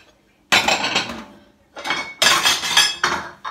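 Clean plates clatter and clink as they are stacked, close by in a home kitchen: one scraping clatter, a pause, then a longer run of knocks and rattles.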